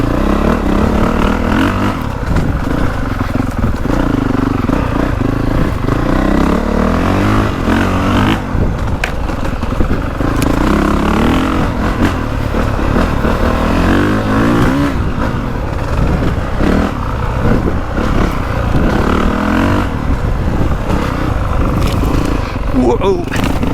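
A 450 dirt bike (Honda CRF450R or KTM 450SXF Factory Edition) on a wooded trail loop, its engine droning and revving steadily throughout, loud and close, with a rider's voice over it.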